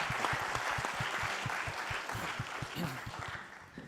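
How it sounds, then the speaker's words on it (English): Audience applause at a tech summit, a steady wash of many hands clapping throughout, fairly loud and dense, with a faint voice underneath toward the end. "A round of applause for Charles"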